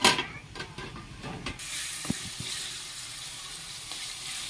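Potatoes cooking in a pan over a village firewood fire give a steady soft sizzle and hiss with a few faint stirring scrapes and knocks near the start, moderately quiet throughout.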